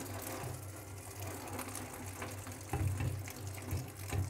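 Water sprinkled over green chickpeas sitting in a sieve, a soft continuous watery patter and trickle with a low mechanical hum beneath, fairly quiet and close.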